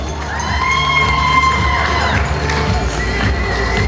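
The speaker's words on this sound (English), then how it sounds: "Ladies and gentlemen, let's get a nice round of applause for a beautiful couple." Wedding reception guests cheer and shout for the newly introduced couple, a lively crowd roar with whoops and raised voices over a low rumble, continuous and fairly loud.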